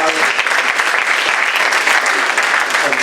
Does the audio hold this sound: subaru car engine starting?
no